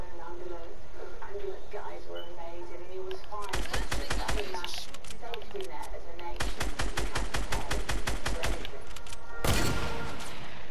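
Fortnite gunfire in rapid bursts, dense automatic fire followed by a long run of evenly spaced shots and a final loud blast, all close and loud under steady game background noise, with voices talking over it.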